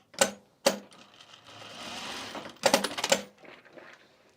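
A sewing machine with a size 16 needle stitching canvas for a travel bag, short mechanical bursts with sharp clicks and whirring, separated by brief pauses and a softer hum in between.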